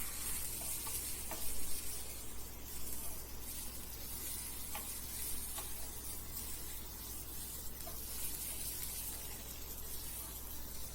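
Cabbage and capsicum for a veg momo filling sauté in a pan, giving a quiet continuous sizzle with occasional light stirring clicks, heard faintly and without talk.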